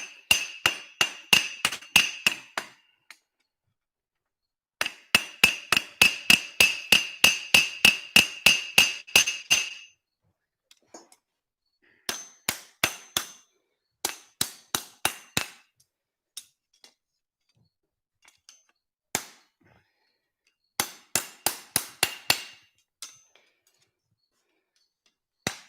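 A hammer strikes metal while forging a horseshoe, in fast, ringing runs of blows separated by brief pauses, sharp and close with bright metallic clinks.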